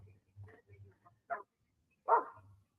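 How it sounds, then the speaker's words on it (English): Dogs bark nearby in a couple of short, sharp bursts, separated by pauses and backed by a low, steady hum. "Fucking dogs, man."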